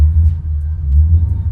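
A simulated Mercedes C63 engine note plays from a car sound app as a deep, steady idling rumble, loud and close, with no talking.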